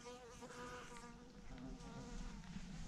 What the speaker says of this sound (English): That was a bee.